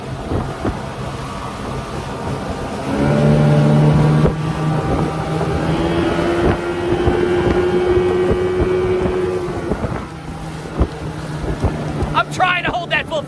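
A 1989 Yamaha Mariner 30hp outboard motor drives a small boat at full throttle across a harbor, a loud sustained engine drone that rises in pitch as it speeds up, with wind buffeting the microphone throughout.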